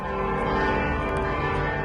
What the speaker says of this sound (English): Bells rang out in celebration at Chicago's Holy Name Cathedral.